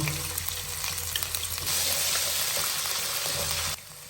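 Ginger garlic paste sizzles steadily in hot oil as samosa filling cooks, a dense close frying crackle that grows louder midway and drops off sharply near the end.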